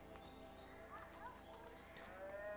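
A cow in the video game A Way Out gives a low moo on a farm near a barn, quiet and somewhat distant under steady ambient game sound and faint background voices.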